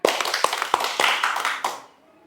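An audience at an Islamic religious talk claps hands in a brief scattered burst, several sharp separate claps over a few seconds before fading to quiet.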